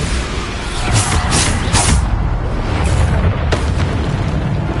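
Repeated Bombarda blasting spell explosions in Hogwarts Legacy, several loud booming bursts in quick succession over a continuous roaring, rumbling bed of combat noise, with no voices over them.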